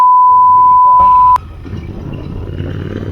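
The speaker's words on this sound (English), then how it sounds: "I have to beep that in editing" A single loud, pure censor bleep holds steady for over a second, then cuts off abruptly, leaving faint background noise and rumble.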